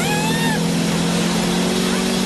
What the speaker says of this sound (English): you can hear Kevin really had the engine revved up there